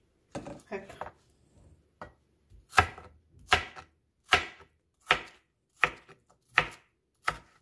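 A knife chops watermelon rind into small cubes on a board, producing about eight crisp, evenly spaced knocks near and clear, after a brief spoken voice at the start.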